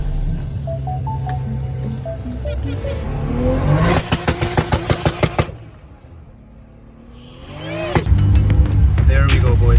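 A 700HP R33 GTR fitted with a 2JZ engine and antilag revs hard. The loud engine drone climbs, then breaks into a rapid string of gunshot-like pops and bangs, dips, and surges again.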